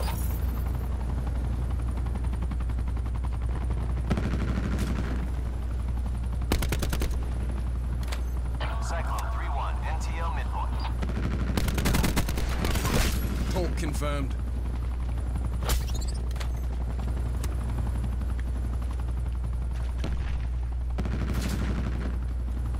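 Gunfire crackles in bursts and sharp shots in a video game jungle battle as players shoot down an aircraft, with a steady helicopter-like drone running underneath throughout; a voice talks over the action.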